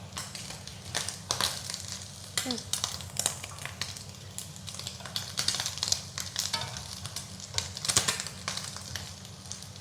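Liver frying in a pan for Nigerian fried rice, with a close, steady sizzle and crackle and frequent scraping stirs running throughout.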